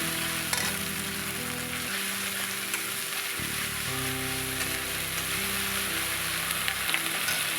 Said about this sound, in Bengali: যে মশলা পেস্ট করা ওটাকে তেলের ওপরে দিয়ে এবার ভালো করে কষিয়ে নেব